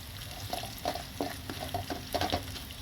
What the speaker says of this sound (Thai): ผัดๆเลยค่ะ หอมนะคะ